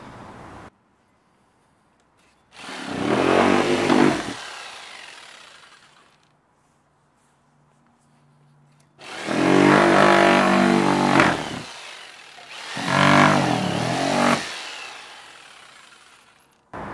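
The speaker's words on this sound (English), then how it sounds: "It's also really easy to cut rigid insulation with a knife edge jigsaw blade." Jigsaw fitted with a sharpened knife edge blade cutting rigid insulation, heard in three loud buzzing runs of a few seconds each, separated by quiet pauses.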